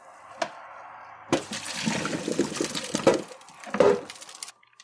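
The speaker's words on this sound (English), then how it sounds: "We're gonna strain our rice now" Cooked rice being strained as its hot cooking water pours and splashes through a strainer, a steady gushing drain lasting a few seconds after a brief clink, then stopping abruptly.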